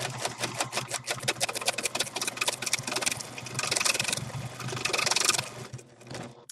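A sewing machine runs a satin edge finish, its needle chattering in rapid bursts that pause briefly and restart, close and fairly loud with no talking.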